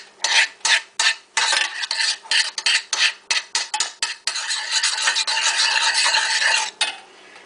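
Butter stirred around a hot pan for a plain wheat Chinese lunch dish, with loud, close scraping strokes in quick uneven rhythm, then a longer continuous rasping swirl before it stops.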